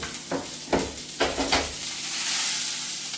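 Butter melts and sizzles in a pan for an eggless bread omelette, a steady close frying hiss broken by a few scraping stir strokes, with no talk.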